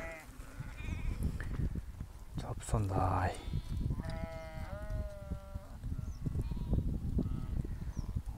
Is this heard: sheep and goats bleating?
yes